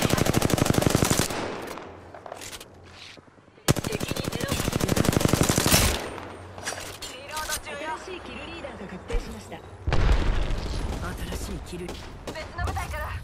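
Rapid bursts of automatic gunfire in the Apex Legends battle royale game, dense and loud, with several fast volleys separated by short gaps; in-game character voices speak over parts of the shooting.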